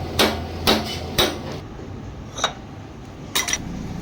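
Tool work on the weight plate nuts of a Hero HF Deluxe motorcycle gives sharp metallic clinks and taps, three evenly spaced near the start and a few more after a pause, fairly close and without talk.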